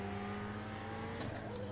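Ferrari 488 GT3 racing car engine at Zandvoort in iRacing, a steady close in-car drone held at even power, with a faint rising whine near the end.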